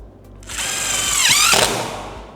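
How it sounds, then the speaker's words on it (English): A power drill drives a screw through a template during a speaker and lid install on a 1998-2013 Harley Street Glide, whining up in pitch, dipping under load and cutting off, loud and close in one short burst. "We're just going to drill it in"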